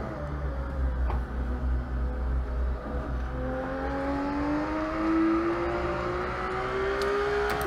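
A Porsche GT3 RS engine in the Assetto Corsa racing game, driven on the Nürburgring, holds a steady high whine that climbs gradually in pitch as the car accelerates, continuous and loud, with no talking.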